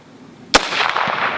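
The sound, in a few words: Winchester 218 Bee rifle gunshot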